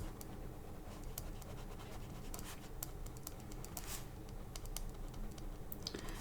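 Ballpoint pen drawing fur strokes on paper, a close, faint, continuous scratching with quick repeated flicks and small taps, heard alone without talk.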